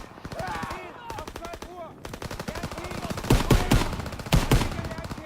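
Rapid automatic gunfire from the Call of Duty video game, a D-Day landing battle, with dense bursts of machine-gun shots and a few louder, heavier blasts near the end.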